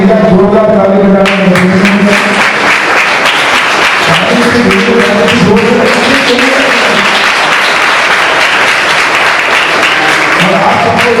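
Loud crowd applause at a village public event in Harda launching a COVID vaccination drive, where Prime Minister Narendra Modi is being saluted; dense rhythmic clapping builds and sustains while an amplified voice carries over it at the start and end.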